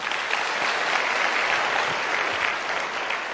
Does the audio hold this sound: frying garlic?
no